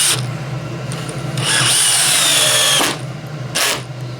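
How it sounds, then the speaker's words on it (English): A DEWALT 12V XTREME brushless cordless drill whirs loudly in several bursts, its pitch rising and straining as it drives screws into wood, with short pauses between runs. "So the drill appears to have plenty of power here."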